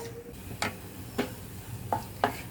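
Cashews roast in ghee in a pan on a low flame while a spoon stirs them, producing a soft background sizzle and four or five sharp, brief clinks and scrapes at a close distance, quiet overall.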